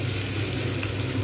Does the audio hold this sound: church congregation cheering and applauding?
no